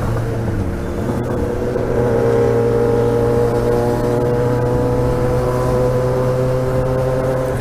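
A Yamaha XJ6 motorcycle engine revs loudly and steadily up close while riding in heavy traffic on a highway, a continuous droning growl with a rising pitch and no talk.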